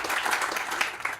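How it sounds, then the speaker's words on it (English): Crowd at an apartment groundbreaking ceremony clapping in a brief, moderately faint burst of applause, steady and dense throughout. "Yes, please, round of applause for Chuck."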